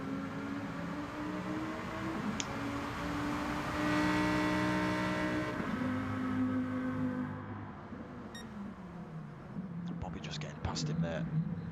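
Lamborghini Gr3 race car engine in a Gran Turismo league race at Red Bull Ring, a steady loud drone with rising and falling revs throughout, under a commentator's continuous talk.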